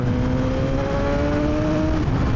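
A Suzuki GSX-R1000R sport motorcycle engine climbing through the revs while being ridden, a loud, close, steady high-pitched howl with a rising tone and no talk over it.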